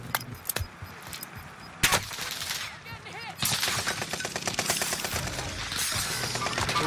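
Gunfire in a multiplayer shooter video game, with scattered single shots at first and then rapid automatic bursts crackling close and loud, mixed with clattering effects.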